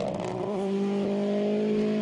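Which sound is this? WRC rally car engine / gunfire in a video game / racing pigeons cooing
WRC rally car engine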